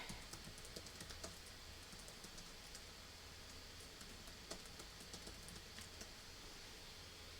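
Quiet typing on a computer keyboard gives a fast, irregular run of soft key clicks against a faint steady background hum, with no one speaking.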